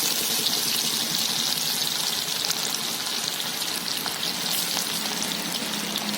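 Garlic sizzles and crackles steadily in hot oil in a pan over a wood fire, a dense, loud and continuous frying hiss with no talking.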